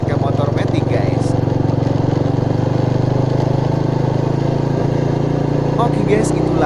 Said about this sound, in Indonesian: itulah uji coba motor lamanya